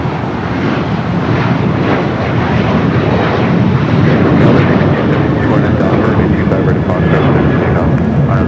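A Boeing 737 MAX 8 airliner passing at LAX, a loud continuous broadband engine roar holding steady throughout, with voices talking underneath.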